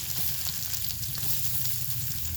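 Chopped onion and crushed garlic fry in oil, giving a dense, even sizzle with faint crackles throughout, close and steady with no voices.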